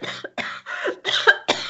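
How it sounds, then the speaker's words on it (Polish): A woman coughs violently during a staged theatre reading, a series of five harsh, loud coughing bursts in quick succession, close and alone without speech. "Edwina gwałtownie kaszle."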